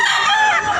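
A rooster at a Cebu poultry market gives a short, close, loud crow lasting under a second, with no talking over it.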